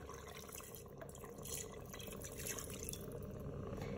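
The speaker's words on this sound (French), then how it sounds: "J'ajoute mes 200 ml d'eau." Water being poured into a Cookeo multicooker pot, about 200 ml, a steady continuous splashing pour that grows slightly louder partway through, close and alone with no talking.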